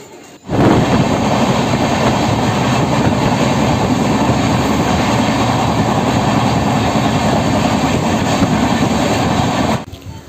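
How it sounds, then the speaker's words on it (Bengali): Steady, loud rumble from aboard the 12821 Dhauli Express (Shalimar to Puri) running at speed, a continuous roar of wheels and carriage noise that holds for about nine seconds with no voices. "দেখতে পাচ্ছ কি পরিমাণ স্পিডে কিন্তু যাচ্ছে আমাদের এই ট্রেনটা"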